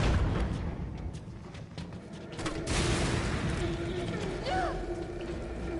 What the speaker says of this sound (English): I'm just gonna try a bunch of flame rounds